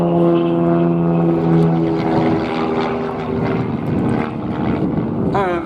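A propeller aerobatic plane performs manoeuvres at an airshow, its engine a loud, steady throbbing drone that rises and wavers in pitch as it pulls up, with a brief whine near the end.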